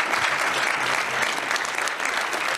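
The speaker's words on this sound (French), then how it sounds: "je pense qu'on peut les applaudir." Audience applause at a French conference gathering, a dense burst of clapping with a faint voice underneath.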